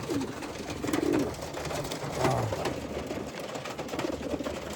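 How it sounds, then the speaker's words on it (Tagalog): Young racing pigeons cooing inside a loft, a few low soft coos rising over a steady rustling, chattering background of many birds. "Yung mga young bird natin nandito mga tol."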